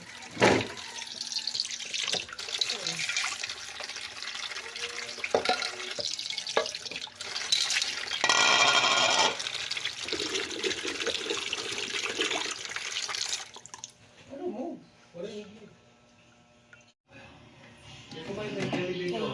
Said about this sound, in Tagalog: Ilang beses natin hugasan yan.